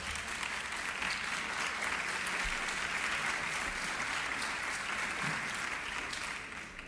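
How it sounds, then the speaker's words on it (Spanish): Sustained applause from an audience at a national tourism forum, a dense wash of clapping that holds steady and fades slightly toward the end. "Se oyó nada más la mitad del aplauso."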